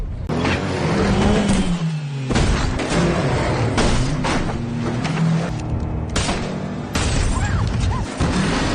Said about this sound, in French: Mais Mason parvient à accélérer pour prendre de l'avance